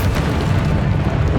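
A Confringo blasting spell explodes in Hogwarts Legacy, a loud, sustained, booming roar of fire and rumble that fills the whole moment without letup.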